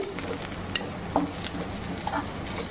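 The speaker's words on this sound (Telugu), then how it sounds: "వెల్లుల్లి, మిర్చి, కొబ్బరి, ఇది కూడా వేసేస్తున్నాను. ఇది కొంచెం వేగాలండి" Garlic, green chilies and coconut fry in a pan, making a continuous close sizzle broken by a few light scrapes and taps of a spoon against the metal, fairly loud, with no talking.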